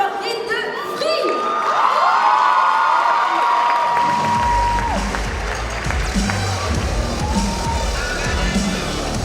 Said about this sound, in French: On l'applaudit bien fort, Rin de Free.